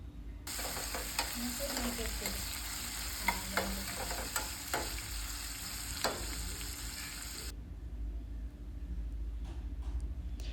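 Tomato, dry red chillies and curry leaves fry and are stirred in a pan, a dense close sizzle with repeated scraping strokes that stops abruptly near the end, leaving a low hum.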